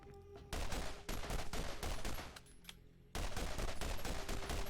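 Rapid bursts of gunfire from a weapon in the video game Borderlands come as loud, dense volleys broken by short gaps, close and without talk.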